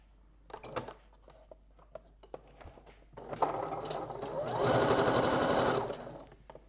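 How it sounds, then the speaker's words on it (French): A domestic sewing machine stitches a zigzag along an elastic edge while sewing bra-strap elastics, a few light clicks and short bursts building into a steady, rapid mechanical chatter for about two seconds before stopping. "Dans ce cas-là, vous piquez au point zigzag le long de ce bord-là."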